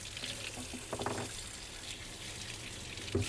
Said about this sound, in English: Let me give my hand a quick rinse here since I just touched raw fish.